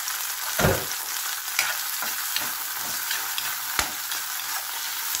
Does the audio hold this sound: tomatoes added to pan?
yes